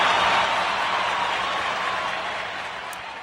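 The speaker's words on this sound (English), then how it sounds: "Lots of applause." Applause from a crowd, a broad continuous wash of clapping that stays loud and slowly fades toward the end, with no speech over it.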